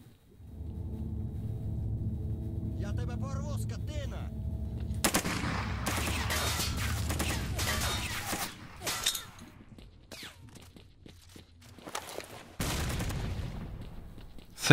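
Gunfire in STALKER Narodnaya Solyanka, set in Lab X18, with a steady rumbling background. The shots come as clustered bursts and single cracks from about five seconds on, loud at first and then more scattered, with no talk.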